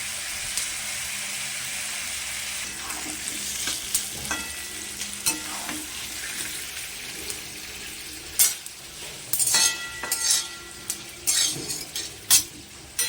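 Nuts frying in a pan for spicy pulao, a steady close sizzle throughout with occasional scraping and stirring clatter from a utensil, the stirring sharper and more frequent toward the end.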